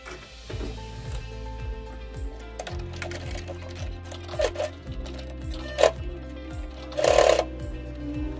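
A sewing machine runs a seam along the edge of a homemade pet harness, its motor thrumming in repeated bursts of rapid rhythmic stitching, close and steady, with brief pauses and small clicks between runs.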